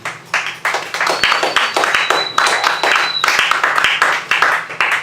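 Audience clapping breaks out after a poem at a live poetry reading, a dense, steady patter of many hands for about five seconds that starts abruptly and holds loud and close throughout.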